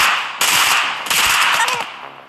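A level 12 burst rifle in the video game Bullet League fires two rapid bursts of sharp synthetic gunshots, loud and close, with fading echoes between them and no talking.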